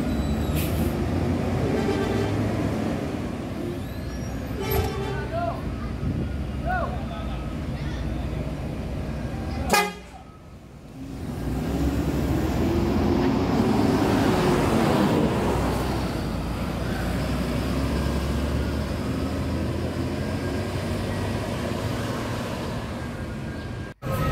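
ANS intercity bus nicknamed Koto Basaga pulling out of the Bandara Solok terminal bound for Jakarta and Bandung, its engine rumbling steadily with a sharp hiss near the middle, amid background voices and roadway noise.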